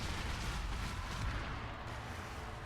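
Bolt thrower in a Total War Warhammer 2 battle, firing amid a dense, rumbling wash of low thuds and battle din, with no clear single shot standing apart.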